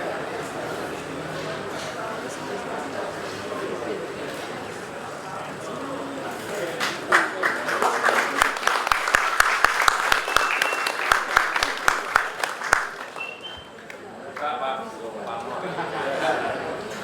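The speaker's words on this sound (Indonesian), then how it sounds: "Tepuk tangan yang meriah" Audience applause greets the formal opening of Sigit Pamungkas's solo exhibition Gamelan Pamor; talk and murmuring lead in, then a burst of distinct, loud claps swells in the middle and thins out as voices return.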